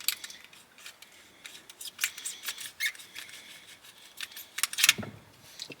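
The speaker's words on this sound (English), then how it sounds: "I'm going to use the razor blade here, and I'm just going to cut through the top half of the bushing." Razor blade cutting through the rubber shifter bushing of a 1987 AW11 MR2, close, crisp scraping and snipping strokes in an uneven rhythm, with no talk.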